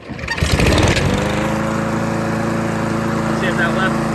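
A Cub Cadet CC 98 walk-behind lawn mower, just fitted with a new drive belt, starts with a rising pull and settles into a steady, loud engine drone close by, with a voice talking over it.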